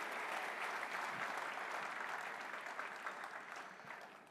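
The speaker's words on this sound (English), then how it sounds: "Shall we give Pastor Poju a round of applause?" A church congregation applauds Pastor Poju, a faint, dense wash of many hands clapping that holds steady and slowly tapers off.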